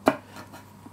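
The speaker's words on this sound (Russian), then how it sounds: "Морковку нужно нарезать мелким кубиком" A single knife chop through a carrot on a cutting board while cutting it into small cubes, one crisp close knock followed by quiet kitchen room tone.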